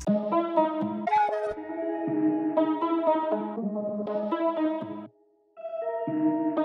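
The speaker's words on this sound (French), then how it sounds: "Le one shot il sonne comme ça. Et ce que j'ai fait, c'est que j'en ai mis un ici et l'autre ici sur l'octave plus bas." One-shot sample in FL Studio for a new-gen trap beat, layered with a copy an octave lower: a bright, echoing synth pattern of repeated stabbed notes, playing continuously apart from one short gap near the end.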